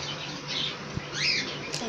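Small caged birds chirp in a pet shop, with a few short, high tweets standing out over a steady low background hum.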